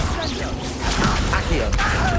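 A fire spell cast in Hogwarts Legacy bursts out as a loud, dense whooshing crackle of flame with clanking mechanical clatter, a busy, continuous blast over about two seconds.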